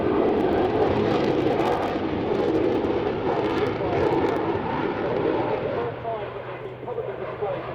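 A Spitfire and a Typhoon fly a synchro display at the 2008 Waddington Airshow, giving a loud, rumbling engine roar that holds and then eases away, with a voice talking over it.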